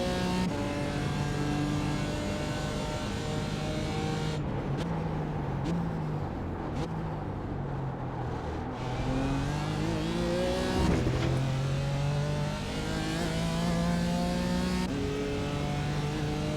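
A BMW or Mercedes GT4 race car engine at Sebring drones loudly and continuously, its pitch climbing under acceleration and dropping at each gear change, with a brief dip before rising again.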